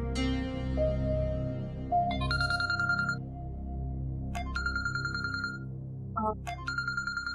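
A phone rings with a bright melodic ringtone, repeating chiming tone bursts over a steady low musical hum in a quiet indoor room, fairly close and clear.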